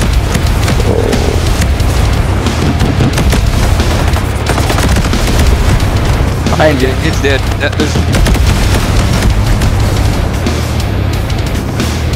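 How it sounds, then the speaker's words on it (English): Explosions and bursts of gunfire in the game Ghost Recon Breakpoint around a drone area, dense rattling shots and booms throughout, with players talking briefly over the combat. "So much explosions."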